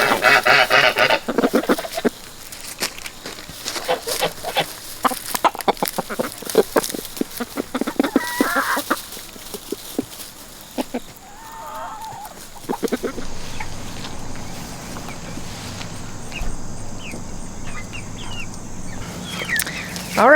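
Chickens cluck and squawk in a busy, close chorus, with scattered calls overlapping and occasional louder cackles throughout.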